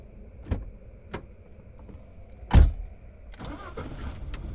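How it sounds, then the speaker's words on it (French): In the game Apparition, a car is re-entered: a few sharp thuds like a door closing, then the engine starts and runs as it drives off, close and without talk. "en fait j'ai remonté dans la voiture, je suis reparti"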